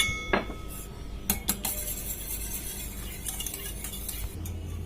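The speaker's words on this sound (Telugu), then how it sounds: "ఈ విధంగా బీట్ చేస్తున్న సమయంలో కొద్దిగా మిరియాల పొడి వేసుకుందాం." Five eggs are beaten in a bowl while pepper powder is added. Quiet, steady whisking carries a few sharp clinks of utensil against the dish, with no voices.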